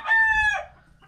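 A single close, loud crow from an Asil Cobra rooster, a short strained cock-a-doodle that trails off quickly.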